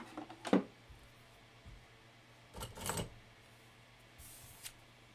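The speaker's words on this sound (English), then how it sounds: "Just let your scissors do all the work" Scissors fussy cutting around a stamped paper card piece, heard as a few close, quiet crisp snips separated by pauses in an otherwise calm setting.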